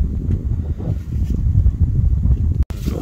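Strong wind buffeting the microphone on a golf course in Gyeongju, a loud rumbling low roar that gusts steadily throughout with one brief cutout near the end.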